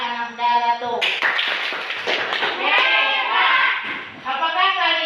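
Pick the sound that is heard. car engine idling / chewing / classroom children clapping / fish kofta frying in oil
classroom children clapping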